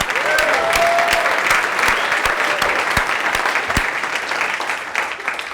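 An audience at a comedy open mic night breaks into loud, sustained applause with some distinct sharp claps, gradually tapering toward the end.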